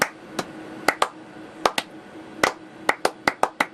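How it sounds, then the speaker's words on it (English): A slow clap from a few people during a casual film review, with sparse, sharp hand claps at irregular intervals that bunch together into a quicker run near the end, close and dry, with no talking. "So, this film gets a slow clap."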